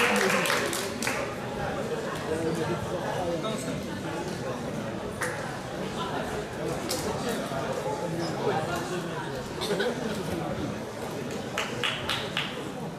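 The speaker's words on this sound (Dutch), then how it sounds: "En natuurlijk een applaus voor jullie eigen Selma Bujara." Audience applause and crowd noise at a women's fight event after a unanimous decision, steady broadband clapping and chatter throughout with sharper bursts near the start and end.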